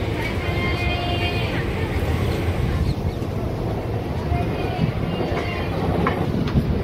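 A MEMU local train on the Vijayawada to Machilipatnam line pulls away with a steady, close rumble and rhythmic clatter of the carriages, while people talk over the noise.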